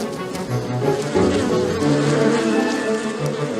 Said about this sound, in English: This returning bee has just found a new source of nectar and is going to tell others in the hive about it.